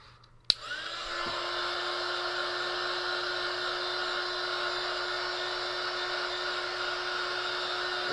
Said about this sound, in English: heat gun again.